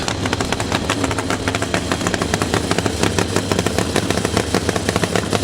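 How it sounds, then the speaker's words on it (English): Nitro V-twin Pro Dragster drag racing motorcycles at a quarter-mile strip in Reading, Pennsylvania, blasting with a loud, dense, rapid staccato engine roar that stays steady and close throughout, no voices. "Cresto Pro Dragsters ready to rip down the quarter mile here out of Reading, Pennsylvania."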